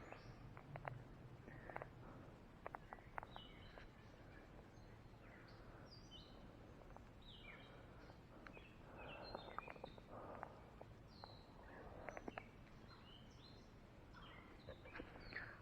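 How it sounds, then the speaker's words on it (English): Birds call and chirp in scattered short bursts around a tree stand in quiet woods, faint and somewhat distant over a low steady background hum. "I can hear the birds singing."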